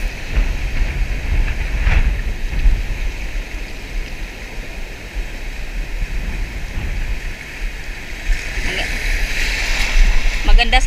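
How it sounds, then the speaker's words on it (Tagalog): Strong sea waves slosh and crash around a small fishing boat in shallow water, a constant broadband rush of surf and splashing that swells louder toward the end. "Grabe yung alon, no?"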